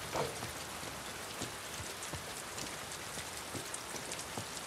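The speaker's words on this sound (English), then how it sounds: "Man, it's raining." Steady rain falls in The Last of Us Part II, a dense continuous patter with scattered heavier drops hitting surfaces, fairly soft and unbroken with no voices over it.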